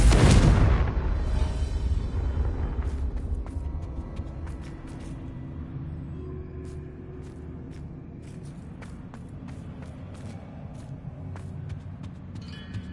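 Confringo, an explosive spell cast in the Hogwarts Legacy video game, lands as a loud blast at the start, then decays into a long rumbling tail with scattered faint clicks and footstep-like taps.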